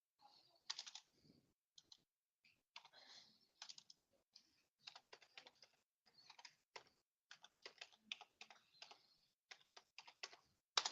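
An email address is typed on a computer keyboard: quiet, irregular bursts of crisp key clicks separated by short pauses, with no talking.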